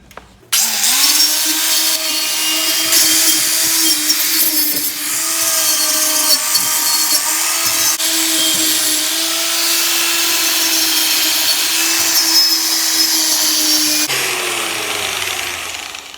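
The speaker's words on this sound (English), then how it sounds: "Now we're going to clean our welds up with a wire brush grinder." A wire brush grinder cleans welds, spinning up to a loud, steady high-pitched whine with scratchy metallic brushing throughout, then dropping in pitch near the end.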